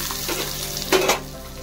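Chopped onion and garlic sizzling in a hot pan, with a steady frying hiss that swells as they are stirred, loudest near the middle with a sharp burst.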